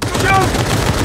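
Rapid automatic gunfire in the game Cyberpunk 2077, a loud close burst of shots over about a second, with a voice shouting over it.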